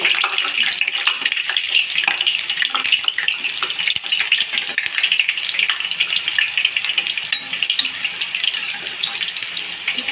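Quick homemade snacks stirred and fried in hot oil until crisp, a dense, steady crackling sizzle with frequent clicks from the stirring, close and loud throughout with no talk.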